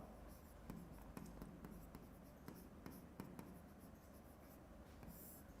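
A pen writes notes during an agriculture economics class, giving soft, faint scratching close by with irregular taps and strokes. No one talks.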